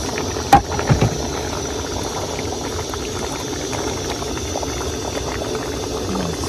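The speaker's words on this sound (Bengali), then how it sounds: "তরকারির ঝোল ফুটে গেছে" Curry broth boiling in a pot before fried fish goes in, a steady low bubbling simmer with a brief clatter near the start, otherwise even and unbroken.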